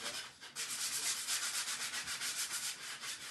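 Steady back-and-forth sanding on a painted wooden surface, a rhythmic scratchy rasp repeating evenly, close and fairly quiet, with no talking.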